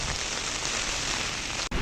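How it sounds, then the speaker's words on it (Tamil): Heavy rain pours down steadily on a road in Jaffna, a dense, continuous wash of loud hiss close by with no talking. "இப்போ சரியான மழை பெய்து கொண்டிருக்குது பாருங்க."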